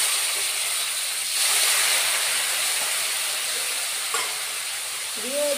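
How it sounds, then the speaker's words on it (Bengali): A little water poured into a pan of sizzling mustard-paste bata fish curry, giving a steady loud hiss and frying crackle with a brief swell of steam and faint utensil touches near the end. "অল্প জল দিয়ে দিচ্ছি"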